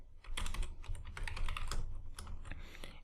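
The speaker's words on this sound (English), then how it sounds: "So let's say I type in dialog self.dialog" Rapid clattering keystrokes on a computer keyboard, close and steady, an irregular run of sharp clicks with a soft low thump underneath.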